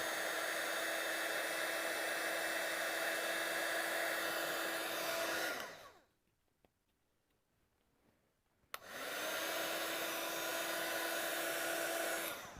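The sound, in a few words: heat tool melting silver embossing powder on a card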